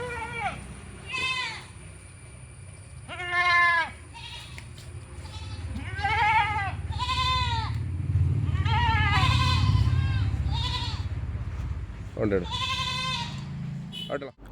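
A young two-tooth Malabari nanny goat, recently kidded and separated from her kids, bleats again and again in loud wavering cries, with someone talking over and between the calls.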